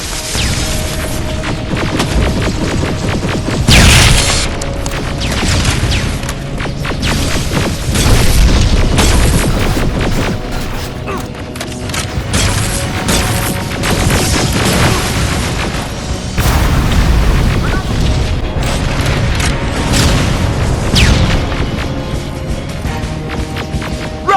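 Rocket explosions in the video game Terminator Resistance, heavy booms and blasts over a constant loud wash of battle noise, with no talking.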